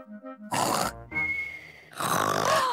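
A cartoon pig voice imitating loud snoring, with rasping, grunting snorts in two long bursts separated by a short whistling breath, preceded by a brief bit of voiced sound.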